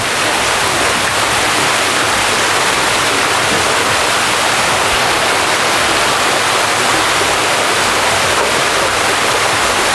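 Dense, steady roar of an indoor waterfall, loud and continuous without pause, echoing within the enclosed room.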